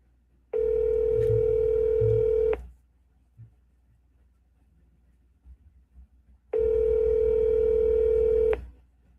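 Telephone ringback tone on an outgoing call-in, two steady electronic buzzes about two seconds long separated by a few seconds of near silence, heard close and clear.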